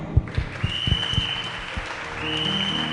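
A church congregation at a Sunday Jesus festival claps. A burst of uneven hand claps comes first, then settles under sustained tones from the hall.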